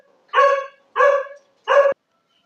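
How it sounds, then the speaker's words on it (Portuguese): Three separate, loud barks from a dog close by, evenly spaced over a couple of seconds, with silence between them and no talking. "o cachorro começou a latir agora"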